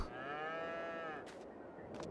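Cows low in a Farming Simulator 22 farmyard, one long drawn-out moo followed by two short clipped sounds, fairly close and clear.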